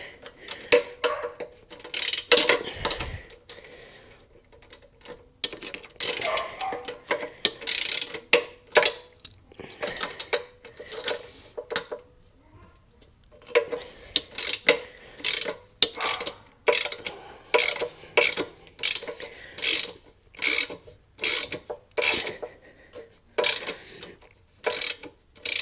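A ratchet wrench clicks in repeated bursts of rapid pawl ticks while tightening bolts to mount a Lifan 140cc engine onto a 1969 Honda CD90Z frame, close and crisp with short pauses between runs.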